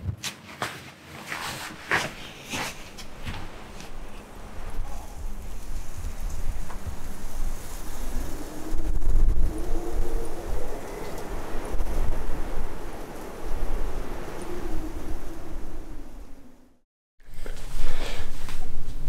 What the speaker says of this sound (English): The wind blew a lot during the night